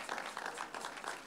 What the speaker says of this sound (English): Please clap for Abraham.